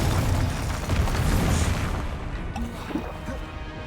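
Rumbling magical blasts from the Confringo fire spell in Hogwarts Legacy, a dense low boom sustained through a dragon fight with a brief sharper burst near the end.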